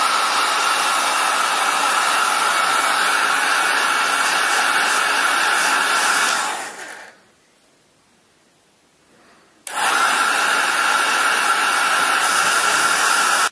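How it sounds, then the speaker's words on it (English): A heat gun blows steadily to set paint on a homemade spinner bait, a loud close rushing hiss that cuts out for about three seconds, then starts again at full strength, with no voices. "I'm going to give it a quick blast with the heat gun."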